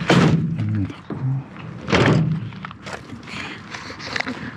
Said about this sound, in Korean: 이문을 먼저 닫아야지. 이문을 닫고